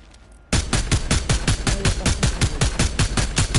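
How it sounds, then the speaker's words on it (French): Rapid gunfire aimed at the player in a video game, a fast, even burst of loud, close shots starting abruptly after a quiet moment and running on without pause. "on me tire dessus"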